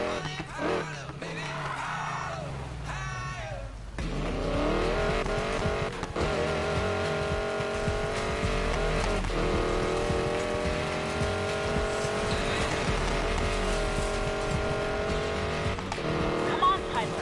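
Race car engine roaring steadily through a video game driving sequence, with sustained revving close up and characters talking over it throughout.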